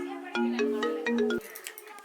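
A mobile phone plays a short, loud melodic ringtone of a few stepped electronic tones, which cuts off abruptly and gives way to faint background noise.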